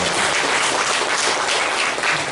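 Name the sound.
church congregation applause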